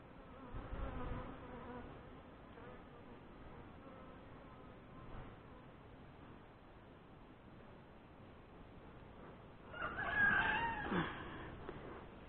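Honey bees hum steadily around an open hive while it is being reassembled, a soft continuous buzz with a brief louder swell near the end as bees fly close.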